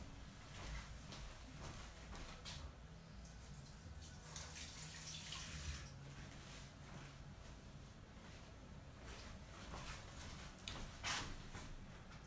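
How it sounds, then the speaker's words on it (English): Hands washed under a running kitchen tap, a faint steady water stream with soft splashing and irregular hand-movement sounds. "I wash my hands."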